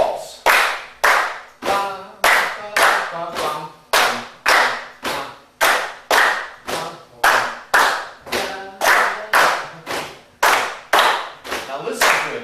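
A music workshop group claps a patch, clap, clap pattern in waltz time, with steady, loud, even hand slaps and claps repeating in a long unbroken three-beat cycle and a voice speaking briefly beneath them.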